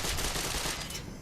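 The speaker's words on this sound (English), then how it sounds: "He's got a submachine gun that puts out a lot of rounds real fast" A submachine gun in Gotham City Impostors, heard during a team deathmatch on The Docks, fires a rapid, continuous burst that stays loud and dense for about a second before cutting off.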